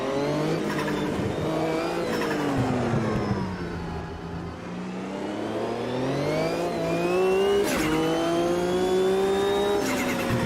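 Race car engine in Automobilista 2, revving up and down through gear changes with rising and falling pitch as the car brakes and accelerates, with brief tire squeal, loud and continuous with no talk.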